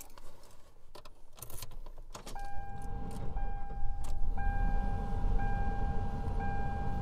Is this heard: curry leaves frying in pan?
no